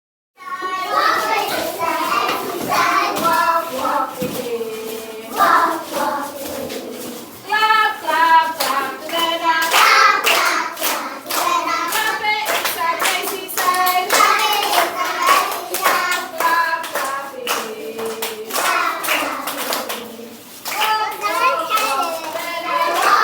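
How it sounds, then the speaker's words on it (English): Students at a school in Ghana clap together in a crisp, steady rhythm while singing or chanting along, the sharp hand claps close and continuous throughout. "Students at Tataya and across Ghana clap with rhythm and learn in harmony."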